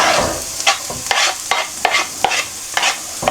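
Garlic frying in a hot pan while being stirred, with a steady sizzle broken by a regular series of sharp scraping strokes, close and fairly loud, with no voices.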